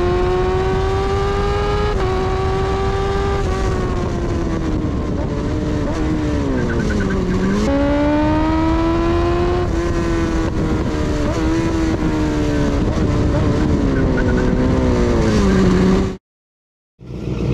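A motorcycle at pace on a race track, heard close and loud from the bike itself: its engine whines continuously and its pitch rises and dips through gear changes and corners, then cuts out abruptly near the end.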